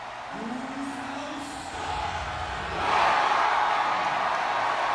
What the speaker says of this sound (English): the crowd is already fired up as this one is underway with Prince Nana in his corner